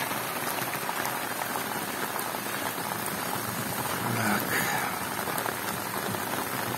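Steady rain falls outdoors in a village in Kherson region, a dense continuous patter on surfaces with no voices over it.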